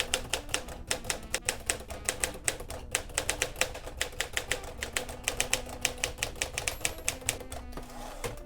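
Brisk typing on a Smith-Corona Silent-Super typewriter, crisp keystrokes striking in a quick, slightly uneven rhythm with occasional pauses, close and clear with no talking.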